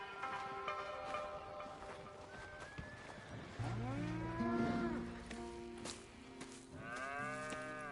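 Cows moo repeatedly in a PS4 farm game, several long drawn-out lows overlapping and rising and falling in pitch, moderately close, over a steady background of game ambience.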